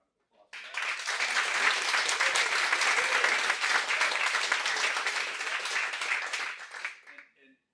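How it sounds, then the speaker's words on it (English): Attendees at a life insurance sales summit break into a full burst of audience applause that starts abruptly, holds steady and loud for several seconds, then tapers off to a few stray claps, with crowd voices mixed in. "give yourself a round of applause for that"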